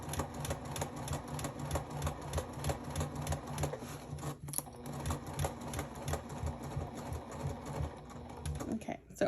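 A sewing machine runs steadily through fabric with a fast, even mechanical clatter, pausing briefly once as the seam pivots and follows a curve, then resuming until it stops at the end.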